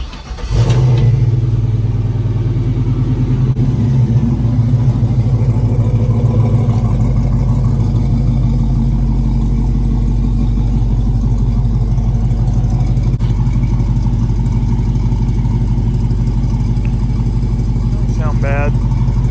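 A 1966 Chevrolet C10 pickup with a swapped LS V8 engine and a straight-through baffled Carven exhaust rumbles loudly and close, with a deep steady idle and revving, plus voices talking at times.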